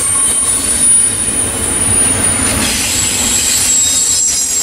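A freight train rolls past close by, loud and continuous, with high-pitched wheel squeal ringing over the rumble of the cars.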